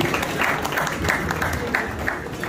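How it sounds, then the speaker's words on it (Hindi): An audience at an event honouring Pakistani cricket legends applauds as a cricketer comes on stage, with loud, close clapping that holds steady for the whole moment, dotted with a few individually distinct claps. "जनाब यूनुस साहब, तालियां होनी चाहिए भरपूर इनके लिए"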